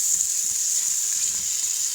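Sliced onion sizzles with whole spices in an Instant Pot for an Indian spiced lettuce soup, giving a steady, close, high hiss of frying with no talking.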